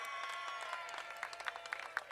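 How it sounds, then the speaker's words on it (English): An outdoor crowd gathers for Ben's Chili Bowl's 60th anniversary celebration in Washington, D.C., and applauds the Ali family in a quiet, distant wash of clapping, with a few sharper claps toward the end. "Let's give a big D.C. round of applause to Virginia Ali and the Ali family."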